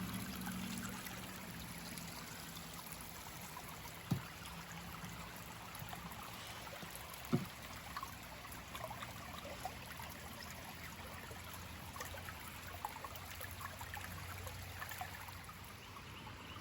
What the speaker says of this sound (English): Look at the amount of water going under the bridge right now.